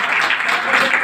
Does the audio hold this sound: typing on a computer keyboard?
no